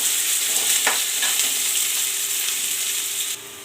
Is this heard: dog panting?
no